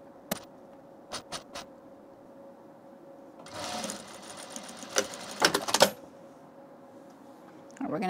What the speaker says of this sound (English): we'll sew our collar to our neckline